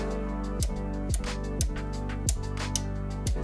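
Sharp mechanical clicks repeat at an even pace, the stepped knob of a Stamchild SA-670 compressor, mastering version, turned notch by notch over a steady electrical hum.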